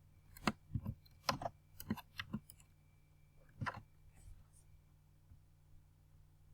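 Computer keyboard keys clicked in short bursts while a query is typed, close and quiet, with a few isolated taps and pauses after the first flurry.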